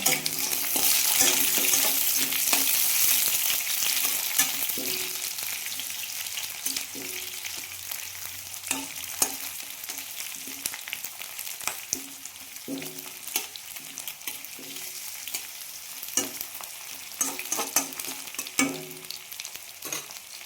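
Potatoes frying in a pan, a loud sizzle at first that settles, with repeated scraping and tapping of a spatula stirring throughout.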